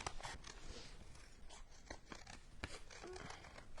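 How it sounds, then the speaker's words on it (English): Scissors cut through a cardboard tissue box with a series of crisp, irregular snips and rustles, close and fairly quiet. There are small crinkling sounds between the cuts. "I am cutting out my Kleenex box."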